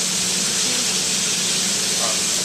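Chicken tagine sizzling steadily in the pan, a constant close hiss with a faint low hum underneath and no clear pauses.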